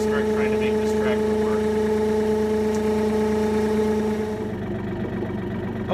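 A diesel tractor engine idles in cold winter weather, a steady low drone with strong harmonic hum running throughout, loud and close, with the tone shifting slightly near the end.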